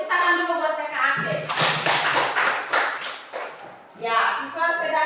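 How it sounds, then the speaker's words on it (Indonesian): Children clap their hands together in a short, loud burst of rapid, close claps lasting a few seconds, with an adult teacher's voice talking before and after it. "Tepuk tangan dulu buat Kakak Ake."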